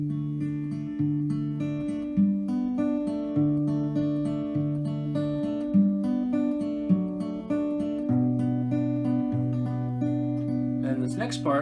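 Guitar plays the folk tune Wild Mountain Thyme, plucked notes and sustained bass tones moving in a steady, gentle pattern, close and alone, ending with a brief noisy scrape.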